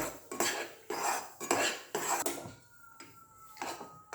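A spoon scrapes and stirs a thick pedha sweet mixture in a metal pan, with rhythmic scraping strokes about every half second, close and clear, and no talking.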